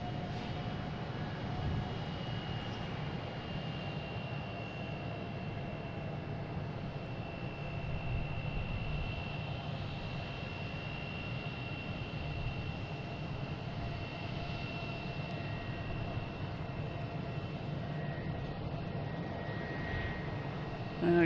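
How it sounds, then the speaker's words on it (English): A JetBlue jet arriving from Orlando lands at Boston Logan. Its low, steady engine drone holds throughout at moderate distance, with thin whining tones over the rumble. "JetBlue coming in from Orlando, Flight 1152"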